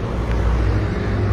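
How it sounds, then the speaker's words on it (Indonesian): A bus carrying Hajj pilgrims in Mecca, a loud steady engine drone and road rumble heard up close, with no talk over it. "Ini bis yang membawa jemaah haji."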